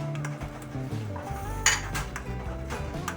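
Leftover appam batter is stirred with rice flour in a bowl, a spoon clinking and scraping against the sides in steady strokes, with faint background music underneath.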